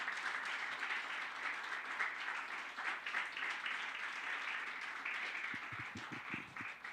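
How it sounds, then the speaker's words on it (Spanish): Church congregation at a Sunday morning service claps loudly and steadily after a prayer, a sustained crowd applause filling the room, with a few low thumps near the end. "Dale un fuerte aplauso al Señor."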